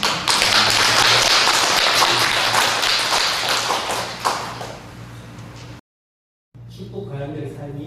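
A church congregation at Jinju family church Sunday worship bursts into loud, sustained applause that gradually fades over about five seconds, followed by a brief silence and then a voice speaking.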